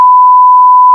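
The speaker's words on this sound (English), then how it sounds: "We can beep out the name." Censor beep: a single loud pure sine tone held steadily for about a second with hard starts and stops, alone.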